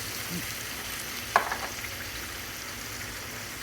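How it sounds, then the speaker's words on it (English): Mushrooms with their juice fry in a hot pan while a hamburger steak dish is cooked, a faint, steady sizzle heard close with no talk, broken once midway by a short sharp clink of a utensil. "let's let these mushrooms get good and hot"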